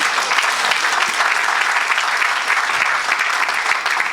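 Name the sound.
church congregation applauding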